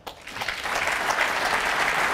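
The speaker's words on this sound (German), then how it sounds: "der Applaus ist für dich auch an der Stelle" Audience applause at a German football-related talk event, steady dense clapping that swells after a brief start and holds loud and close for the whole span.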